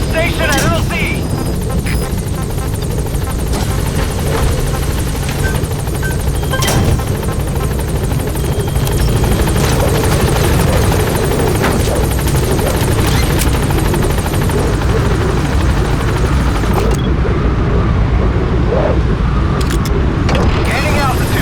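Support helicopter Pequod arriving in Metal Gear Solid V: The Phantom Pain, a loud, steady rotor roar with engine rumble running the whole time, joined by radio chatter and game sounds.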